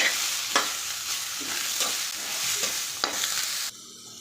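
Chopped tomato and coriander leaves sautéing in a pan for okra kara kuzhambu, a close, continuous sizzle with a few scraping stirs, stopping abruptly just before the end.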